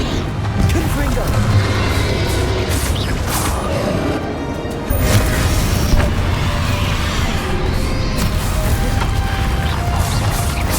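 Confringo fire spell blasts in Hogwarts Legacy combat go off in loud, crashing bursts. Booms and impacts sit over a dense battle din while a voice speaks throughout.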